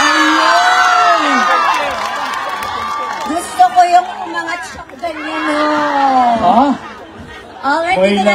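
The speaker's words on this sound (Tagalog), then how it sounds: "dito natin nalalaman sa audience participation ang pinakamalakas na hiyawan" A concert audience in Birmingham, UK, cheering, screaming and shouting loudly in a continuous wall of voices, with a few sharper peaks of yelling near the middle.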